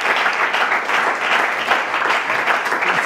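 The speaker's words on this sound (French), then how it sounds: "que je vous prie d'applaudir très fort" Loud, dense audience applause for the jury president on a TV game show, continuous and evenly sustained throughout with no voices breaking through.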